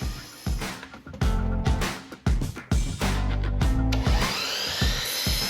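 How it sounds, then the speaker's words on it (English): Wooden deck spindles are ripped lengthwise on a saw, with repeated loud close bursts of cutting noise rising and stopping in uneven strokes, separated by brief lulls. "I'm ripping these deck spindles down."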